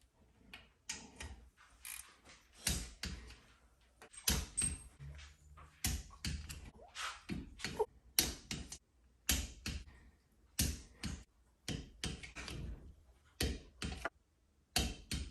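Ratchet wrench clicking in repeated bursts while snugging the cylinder head bolts on a Kawasaki FR730V V-twin engine during a rebuild, close and fairly loud, with short pauses between strokes and no talking.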